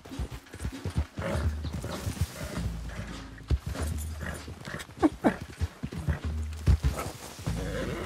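Horse hooves galloping in Red Dead Redemption 2, a steady fast clip-clop rhythm running through the whole stretch, close and fairly loud with faint background game sounds.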